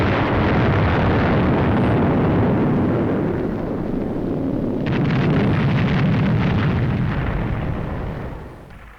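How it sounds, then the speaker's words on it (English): A massive explosion in the World War II strategy game Burden of Command, a loud deep rumbling blast that rolls on with crackling debris and a renewed surge before fading out at the end. "That's a pretty massive explosion."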